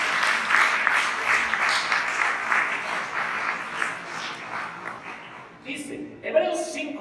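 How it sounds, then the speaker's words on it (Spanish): Church congregation applauding during a Spanish-language service, steady clapping that gradually thins and fades after about five seconds, followed by a few brief sounds and a short burst of voices. "Un aplauso para nuestros personas."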